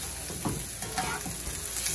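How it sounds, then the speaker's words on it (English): Steady crackling sizzle of onions sautéing in hot oil, with occasional soft stirring scrapes, close and continuous. "I'm going to go ahead and let this saute a bit for about 1 minute"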